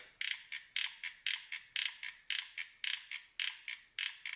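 A trigger-fed soldering iron advancing solder wire from its spool, a rapid regular ratcheting clicks-and-whirs pattern of short mechanical bursts, about three per second, close and fairly quiet with no voices.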